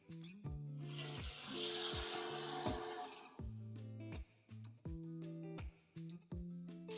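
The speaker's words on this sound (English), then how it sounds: "a pot up with water" Tap water pours into a pot in repeated short bursts, close and fairly quiet, with clinks and knocks of the pot between flows.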